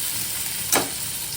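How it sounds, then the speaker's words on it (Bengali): Fish pieces frying in hot oil for a vegetable fish curry give a steady soft sizzle, with one brief louder hiss burst midway as a piece goes in. "এখন মাছগুলো একটা একটা করে ভাজা করে নেব"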